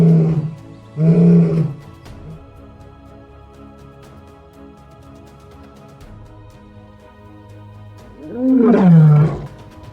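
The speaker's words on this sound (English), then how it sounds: "The females can hear his roars in the distance." Deep, powerful big-cat roars, a couple of short bursts at the start and a long rumbling roar near the end, with quieter rumbling between.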